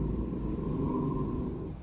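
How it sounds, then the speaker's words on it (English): A Roomba robot vacuum cleaner runs indoors, a steady low motor hum with a faint whirring tone held for the whole brief moment, fairly quiet and alone. "The vacuum robot thing."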